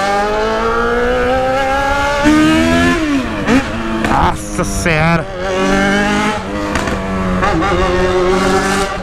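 A Yamaha XJ6 motorcycle engine roars and revs up and down near the listener, with rising and falling pitch sweeps over a steady growl, while a man briefly exclaims over it.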